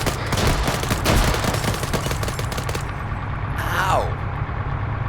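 Rapid bursts of automatic gunfire crackle through a video game firefight, dense and continuous at first, then thinning out, with a descending whine near the end.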